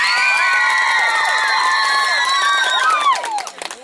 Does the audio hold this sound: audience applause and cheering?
yes